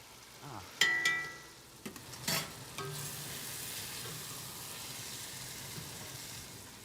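Cabbage sizzling and frying in a pan, with a few clanks of a utensil stirring early on, then a steady, quiet sizzle continuing alone.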